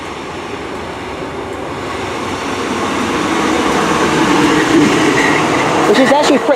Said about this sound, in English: coming in now is to Papa 87, which is the 1514 Great Western Railway service from Penzance to Plymouth